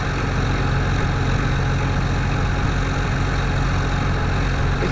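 A tractor with a Cummins engine idling on farmland during hay baling, a steady, deep diesel rumble holding close and loud without pause.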